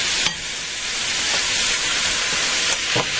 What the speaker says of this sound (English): I'm going to fry these till they're brown